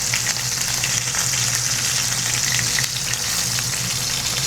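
Beef searing in a pan for a red-wine braised beef giouvetsi, a steady, loud sizzle and crackle of fat frying throughout, with no talking.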